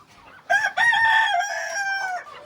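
A single rooster crows loudly and close by, one long drawn-out cock-a-doodle-doo.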